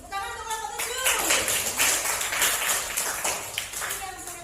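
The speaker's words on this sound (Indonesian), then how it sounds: "Tepuk tangan untuk kelompok 7." Brief classroom applause for a student group, a burst of scattered clapping that rises after a voice and fades as speaking resumes.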